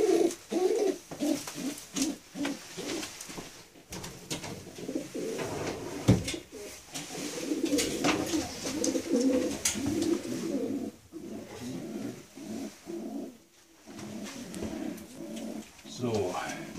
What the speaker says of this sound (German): Etwas nervös, die Taube, so ein bisschen Brummer.